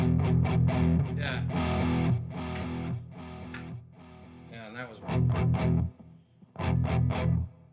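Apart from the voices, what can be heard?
high-gain distorted electric guitar with P90 pickups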